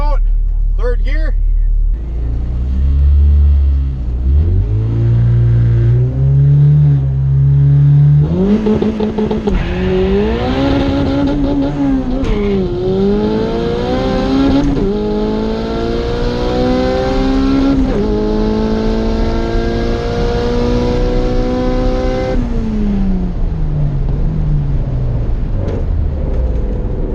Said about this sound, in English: Good burnout, third gear.